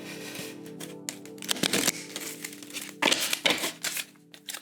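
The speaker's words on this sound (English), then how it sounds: "I'm trying to shuffle on a very small space here." Animal-message oracle cards are shuffled by hand on a cramped surface, giving bursts of crisp riffling and papery crinkle with short gaps between, close and fairly quiet.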